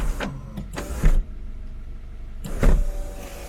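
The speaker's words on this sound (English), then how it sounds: "the most awesome thing about this, it's got a sunroof" The electric sunroof on a Nissan GTR whirs open in short motor runs, a close, clear mechanical hum repeated in two or three bursts with brief pauses between them.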